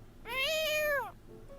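A cat gives one drawn-out, clear meow that rises and falls over about a second, close and fairly loud, against a quiet background.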